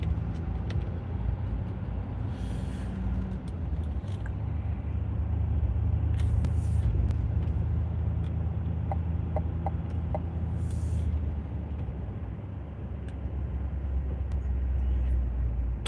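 A car rolling along an icy, snow-covered road in South Jersey toward a lighthouse, heard from inside as a steady low engine and tire rumble, with faint clicks and brief hisses over it.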